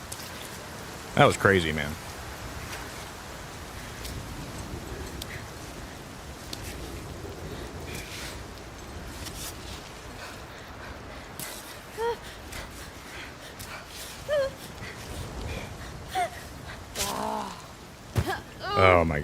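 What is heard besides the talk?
rain falling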